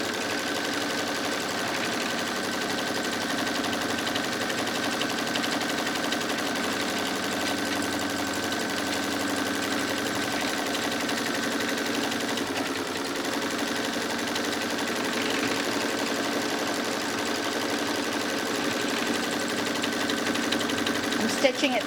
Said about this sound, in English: Stitching it several times